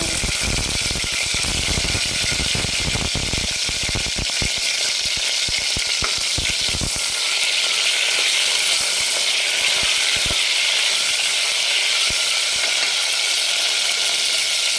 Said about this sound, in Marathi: हे पूर्ण आपण वांगे हे तेलामध्ये टाकून घेणार आहोत आणि छान असं नरम करून घेणार आहोत